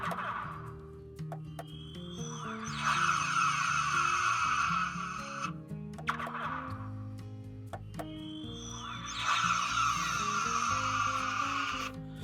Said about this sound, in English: Now, phaser and photon torpedoes.